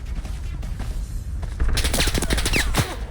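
Rapid automatic gunfire from a video game, a full magazine dumped in a fast continuous burst of sharp cracks that kicks in partway through and stays loud, over quieter ambient game noise at the start.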